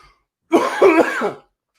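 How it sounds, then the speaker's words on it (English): A single rough cough with a throaty, clearing quality, loud and close, preceded and followed by silence. "Sorry about that cough"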